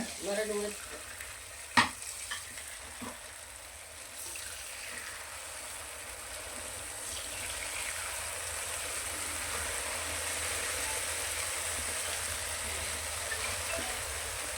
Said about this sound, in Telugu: నూనె బాగా కాగింది ఇప్పుడు ఇందులో ఇందాక చేసి పెట్టుకునే ఒక్కొక్కటి ఒక్కొక్కటి వేసుకోవాలి ఇలాగా